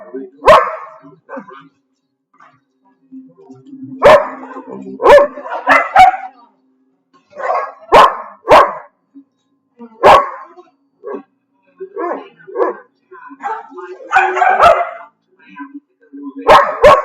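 A dog barks in scattered bursts, sometimes single yaps and sometimes quick doubles, with pauses of quiet between them. The barking is fairly close, and a voice speaks between some of the barks.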